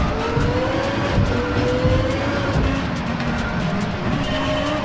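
An SRT Tomahawk X race car roars loudly in GT Sport, its engine note shifting up and down as it drives, with occasional tire squeal.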